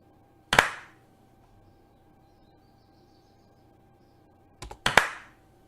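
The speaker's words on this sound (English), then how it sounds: "When you hear the clap, fold your arms to your chest." Two sharp hand claps used as a signal in a classroom game, one alone near the start and a quick double clap about four seconds later, close and loud against a quiet room.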